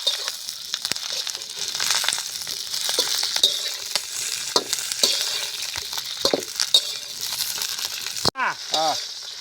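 Green chillies frying in hot oil, a close crackling sizzle with bursts of popping and stirring scrapes, steady before a short clatter near the end.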